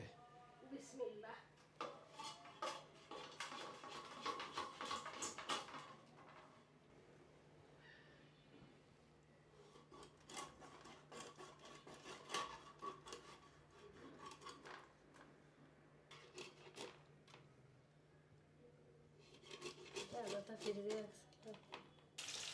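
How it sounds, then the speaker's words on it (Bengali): A big boal (wallago catfish) being cut up in a kitchen, with repeated clattering, scraping and rasping strokes of knife or blade on fish and utensils coming in bursts, close by and fairly quiet. "বোয়াল মাছ কাটা হচ্ছে"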